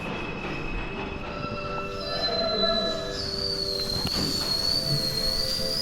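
A Queens-bound New York City subway E train pulls into the station with steady rumbling and a high, sustained wheel squeal that rises and bends near the end. A short sharp clank is heard midway, and no one speaks.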